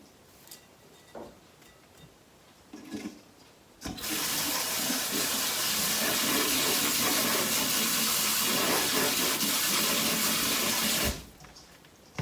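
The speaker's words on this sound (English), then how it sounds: "Some of the husks stuck to it when I transferred it with the screen, so I rinse those off again." Alfalfa sprouts rinsed under a tap: quiet handling first, then a strong, steady stream of running water for about seven seconds that cuts off abruptly, close and with no talk.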